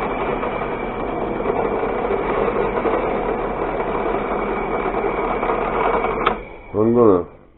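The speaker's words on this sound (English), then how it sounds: "So I got this countersink drill, and I'm going to drop this down" A mini lathe runs with a countersink drill in its chuck, giving a steady mechanical hum with a whiny tone for about six seconds, then a brief click and a short rising-falling whir as the motor changes speed.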